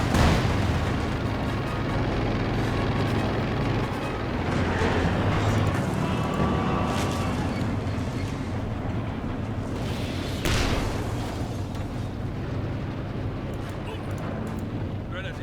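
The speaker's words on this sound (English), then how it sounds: "I hear Katusha Barrage somewhere over here." A Katyusha rocket barrage in Company of Heroes 2 rumbles as a dense wash of distant booms and bursts that roll on without pause under constant battlefield noise.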